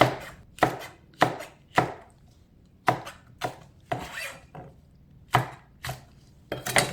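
A knife chopping five Cheongyang chili peppers on a cutting board, sharp close knocks in uneven bursts with short pauses between them, no talk.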